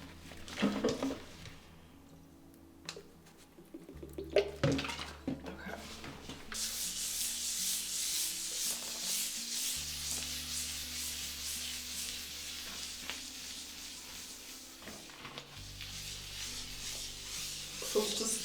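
A sponge soaked in lemon rubs and scrubs across a glass shower door, a steady swishing scour with brief pauses, close and fairly loud, with no voices.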